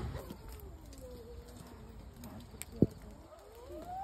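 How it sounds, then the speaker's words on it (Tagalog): Soft, low cooing from a bird drifts through outdoor background noise in Baguio, with a sharp knock partway through and faint voices nearby. "Ibon."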